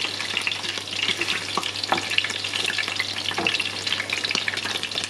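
Seitan frying in oil, a loud, dense, close sizzle with frequent crackles and the occasional scrape of stirring or turning, steady throughout with no talk.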